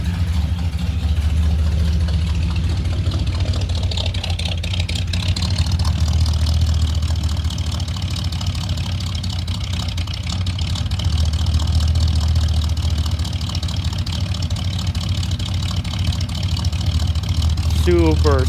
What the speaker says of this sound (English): I think she'll stay running now, but she does not like to run low on the RPM